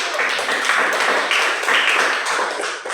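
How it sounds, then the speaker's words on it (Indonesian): A classroom group applauds a student group after its presentation, a dense steady patter of many hands clapping at once, fairly close and continuous with no talking. "tepuk tangan untuk kelompok 1"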